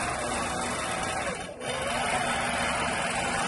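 A sewing machine stitches a quilt in a steady, continuous whirring run that stays loud throughout, with one brief dip partway through.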